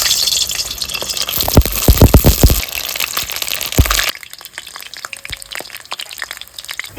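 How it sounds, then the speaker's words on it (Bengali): Vegetables fry in hot oil in a wok, a loud crackling sizzle with sharp pops and spatters early on, then dropping suddenly to a quieter, steady frying hiss with scattered ticks. "এবার আমি তেলটা দিয়ে দিচ্ছি এবার এগুলো একটু ভেজে নেবো"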